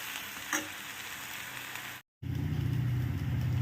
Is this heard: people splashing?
no